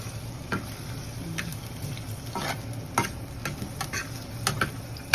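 Garlic sizzles and fries in a pan, a steady crackling hiss broken by scattered clicks and taps of stirring, close and moderately loud with no voices.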